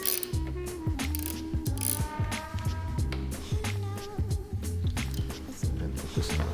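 A ratchet loosening a nut on a Ducati 959 Panigale lever, rapid repeated clicking in close, steady bursts with metallic ringing, no talking.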